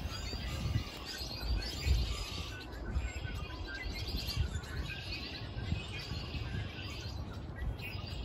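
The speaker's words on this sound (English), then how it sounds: "it's about to get a little noisy because I recorded some birds." Birds chirp in the woods, with scattered tweets and calls over a soft outdoor rumble and faint wind, fairly distant and light, with no voices.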